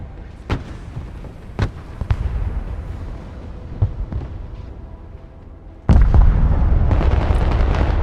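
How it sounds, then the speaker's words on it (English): Artillery pieces fire in Broken Arrow, several sharp booms spaced a second or so apart over a low rumble, then a loud sustained barrage of overlapping blasts takes over. "Artillery ready to fire, sir."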